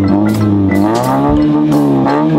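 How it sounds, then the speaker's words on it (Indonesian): A two-door sports car engine roars loudly and steadily up close, its deep exhaust note shifting slightly in pitch as it revs, with no talk over it. "Ya, keras mobilnya."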